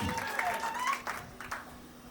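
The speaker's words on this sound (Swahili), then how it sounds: "Ongeza makofi kwa ajili ya baba." Audience applause breaks out for the bride's father at an album launch party: a brief, steady wash of clapping blended with crowd noise and background voices.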